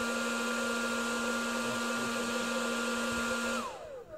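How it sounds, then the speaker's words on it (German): A hair dryer blows outdoors with a steady whirring whine and a constant airy rush. It is close and continuous, then switches off near the end, and its pitch winds down as the motor slows. "So, dann mal die Föhn."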